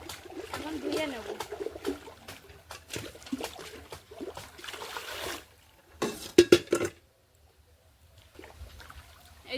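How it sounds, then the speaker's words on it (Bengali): Washed dishes being rinsed with water, with splashes, trickles and clinks of utensils under a person talking, then a short burst of louder splashing before a pause. "আমি লিকুইড জেলটা দিয়ে মেজে নিয়েছি, এখন ধুয়ে নেব।"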